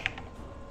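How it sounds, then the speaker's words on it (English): Brief keyboard typing during a RuneScape 3 game session, a couple of faint clicks, the sharpest one near the start, over a low steady background hum. "I was actually typing to someone."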